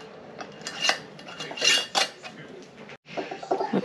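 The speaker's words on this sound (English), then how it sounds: "we wipe the rims with white vinegar to clean off any of the juice" Glass canning jars of ham stock clink and knock against each other and the counter while their rims are wiped with white vinegar, several close, bright taps in an uneven rhythm.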